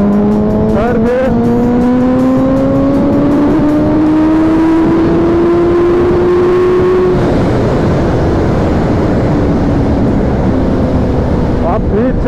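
Suzuki Hayabusa motorcycle engine pulling hard in third gear toward top speed, a loud rising whine that climbs steadily for about seven seconds, then gives way to heavy wind roar at speed.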